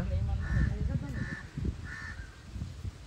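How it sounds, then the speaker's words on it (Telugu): Crows call from mango trees in a seaside grove, three loud, evenly spaced caws rising over low rumbling background noise while a person talks nearby. "చక్కగా ఈ చెట్ల మీద అయితే చూసారా కాకులు అయితే ఎన్ని"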